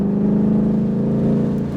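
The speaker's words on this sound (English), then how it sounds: "Accelerating on out to the left-hand side." A Ford Mustang Shelby GT500 accelerates hard around a race track, its engine holding a loud, steady mid-range drone close up with no talk over it.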